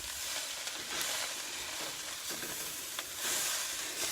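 A spoon works through an amaranth mixture in a pan with a faint, steady scraping and soft sizzling texture, quiet and close, with occasional light clicks of the utensil.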